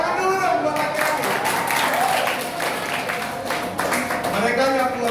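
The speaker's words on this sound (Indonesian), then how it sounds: "Tepuk tangan dulu dong buat laki-laki" An audience claps steadily for the boys at a school gathering, a dense wash of applause lasting the whole stretch, with crowd voices mixed in beneath it.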